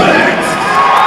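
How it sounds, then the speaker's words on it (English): An MMA event crowd cheers and shouts excitedly for a fighter entering the cage, a loud, sustained roar of many voices with whoops throughout. "This crowd getting super, super excited for Tommy Two-Ton Blixt"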